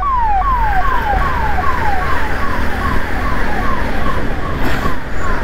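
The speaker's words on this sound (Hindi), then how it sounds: "एम्बुलेंस आ रही है रास्ता दो।" Ambulance siren wailing on a road in India, a steady repeating falling sweep over loud traffic and wind noise, about a dozen cycles at an even rhythm with no voices.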